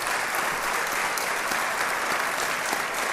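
Dense, sustained applause from a large audience, an even wash of many clapping hands across the whole moment with no voices standing out.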